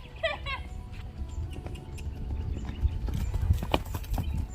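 A horse's hooves clop along at a steady trot, close by, with a brief whinny early on and murmuring voices underneath.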